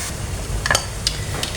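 Finely chopped onion sizzles softly in a pan. A few sharp scrapes and clinks come from stirring, scattered over a low background rumble.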